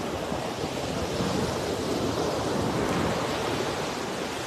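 Sea waves washing onto a shore, a steady, dense roar of surf that holds at an even loudness throughout with no voices.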